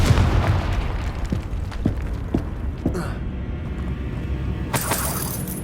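Confringo explosion spells cast in Hogwarts Legacy: several sharp bursts and booms in a row, each with a short crackling decay, followed by a brighter magical whoosh near the end.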